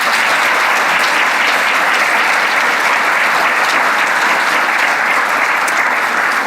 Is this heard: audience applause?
yes